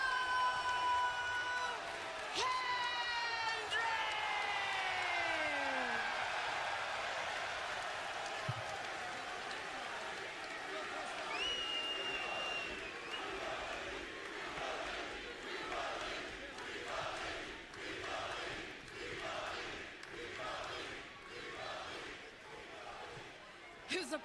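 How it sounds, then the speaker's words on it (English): A wrestling arena crowd at a TNA Bound for Glory event roars and cheers in a sustained, swelling wash of noise, with an announcer's amplified voice ringing out over the first few seconds. "Listen to the crowd."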